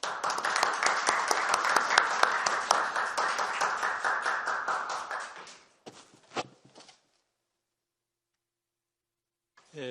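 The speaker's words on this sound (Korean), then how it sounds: "박수로 환영하겠습니다." Applause welcoming a speaker at a Korean election white paper presentation event, dense clapping for about five seconds that then tapers off, followed by a few scattered taps and near silence.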